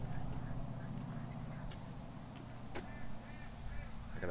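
Geese and ducks honk and quack near a farm pen, a dense, continuous flock chorus close by with occasional sharper calls standing out.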